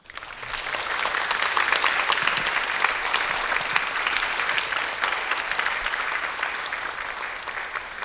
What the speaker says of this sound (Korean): 한번 큰 박수로 청해 주십시오.